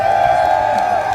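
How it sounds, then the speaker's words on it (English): A live show crowd cheers and applauds in a dense, steady roar of clapping and shouting, loud and continuous without a break. "that is your cue to burst out into a thunderous applause"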